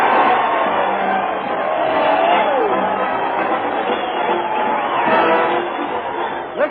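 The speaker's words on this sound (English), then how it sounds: "Listen to that crowd cheer Fred Allen as he heads his weekly parade to the old town hall." A large crowd at an old-time radio comedy broadcast cheers and whoops loudly and continuously, a dense roar of voices that swells and holds throughout.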